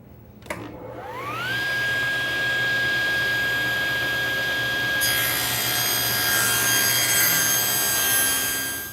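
Table saw ripping a thin wood strip: the blade spins up with a rising whine to a loud, steady high tone, then the cut adds a dense rasping roar that carries on to the end.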